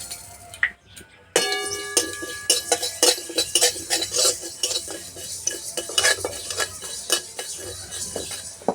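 Whole mustard seeds fry in a pan over a wood-fired clay stove, with a spoon stirring and scraping repeatedly against the metal, giving a busy, close run of clinks and scrapes over a faint sizzle, with no talk.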